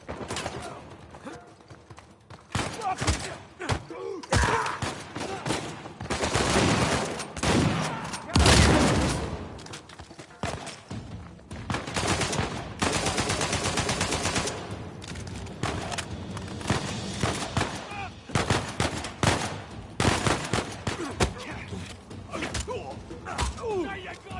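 Dense gunfire in the video game Uncharted 4, with rapid automatic bursts and heavy shots rolling almost continuously, loud and close, with game voices speaking over the battle.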